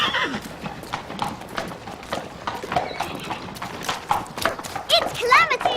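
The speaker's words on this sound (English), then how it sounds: "He's the best horse in the show." A horse's hooves clip-clop in a steady rhythm close by in a western setting, joined at the end by a loud whinny, while people talk over the hoofbeats.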